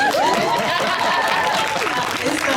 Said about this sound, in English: I'll keep the clap a little longer